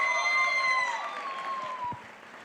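Applause for young children performing at a Diwali celebration, a broad wash of clapping from an indoor audience that starts full and gradually thins, with a faint sustained tone running beneath.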